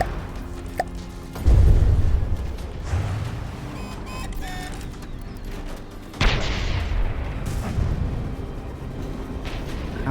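A warship's main gun turrets firing in the naval combat game From the Depths: heavy, rumbling booms land around two and six seconds over a continuous low roar of battle, loud and alone.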